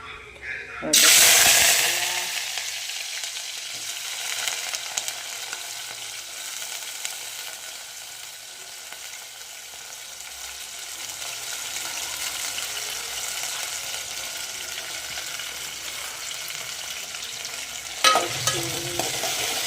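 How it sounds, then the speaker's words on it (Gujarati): Cumin seeds crackle and sizzle in hot oil, a bright continuous fizz that starts loud and settles into a steady hiss, with occasional stirring clinks near the end. "ચકડાટી બોલે છે. જીરું નાખી દીધું."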